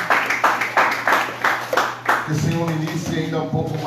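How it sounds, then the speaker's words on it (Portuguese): Clapping for the name of Jesus at a Brazilian church service, a burst of sharp rhythmic claps over about two seconds, then a hum of voices and music as it fades. "Se você pode dar um aplauso forte ao nome de Jesus"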